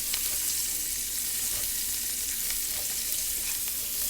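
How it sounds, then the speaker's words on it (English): Diced carrots frying in a pan, a steady close hiss and sizzle that runs unbroken, with faint stirring clicks now and then. "Carrots are nice and hearty, so they can take a good amount of time to cook off."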